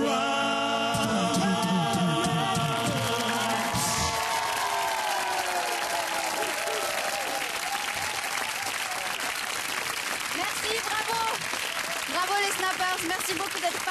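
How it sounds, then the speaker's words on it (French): An audience applauds and cheers after a rock-and-roll band's live performance, loud sustained clapping that continues as the last instrument notes fade out in the first few seconds. "on peut les applaudir encore un peu"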